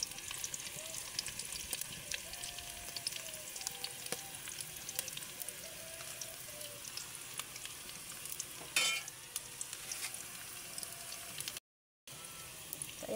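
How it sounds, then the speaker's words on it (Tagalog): Garlic, onion, chili and ginger sautéing in a pan, a faint steady sizzle with occasional stirring scrapes and clinks, no voices over it. "ginigisa natin yung bawang, sibuyas, tsaka yung sili guys"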